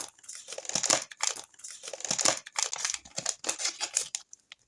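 Close, rustling crinkles of a plastic packet being handled and torn open, in uneven bursts.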